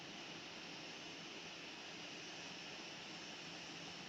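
A Qantas Boeing 747 jet taxies to the runway in Infinite Flight Simulator, its engines producing a steady, even broadband roar that holds constant throughout without voices.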